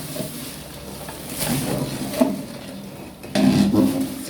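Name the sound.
stirring a khoa, milk and rice sweet mixture with sugar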